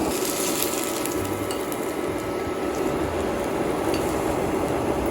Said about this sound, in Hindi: इसको मैं पकाती हूँ, फ्राई कर रही हूँ। देखें कितने अच्छे से फ्राई हो रहे हैं